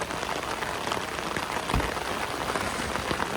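Heavy, steady rain drums on a car body during a stalled drive up a slippery road, a dense close hiss of drops with a brief thump in the middle and no talk.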